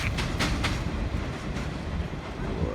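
A Jamaican freight train rolls past close by, a steady loud rumble of cars with rhythmic clickety-clack of wheels over rail joints and brief hissing bursts, continuous throughout.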